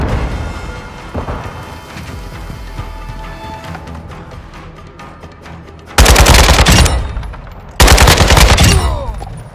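Automatic AK-47 fire in Call of Duty Modern Warfare 2 multiplayer, with two loud sustained bursts near the end over quieter game ambience and scattered distant shots.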